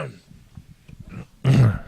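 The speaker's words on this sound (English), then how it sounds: "I had to cough." A single throaty cough or throat-clearing, short and close, after a moment of low murmuring.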